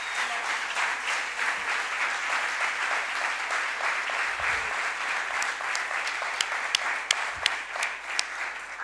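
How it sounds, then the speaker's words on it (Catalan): An audience at a union talk breaks into sustained applause, a dense, even wash of many hands clapping that carries on throughout, with a few sharper individual claps standing out toward the end. "Aplaudim-nos, aplaudim-nos, perquè és un aplaudiment que ens fem a totes nosaltres."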